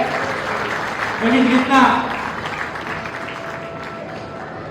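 An audience applauds at a community gathering honouring a respected trustee, a moderate wash of clapping that swells briefly while someone speaks over it on a microphone, then settles into lighter background noise.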